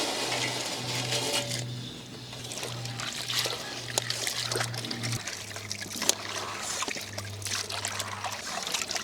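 Dried anchovies are swished and rinsed in a bowl of water, with splashing, trickling and pouring sounds over a steady low hum, repeated across several seconds.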